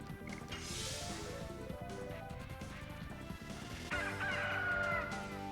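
Rooster crowing as a game sound effect in Legend of Dragoon, heard over a continuous bed of game music and effects, with a brighter crow-like cry rising near the end.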